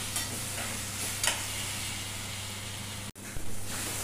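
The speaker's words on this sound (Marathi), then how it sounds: "छान हलवून घेऊया" Smashed eggplant being stirred in a frying pan, a continuous sizzle with a few brief scraping strokes and a short dropout near the end, no voices.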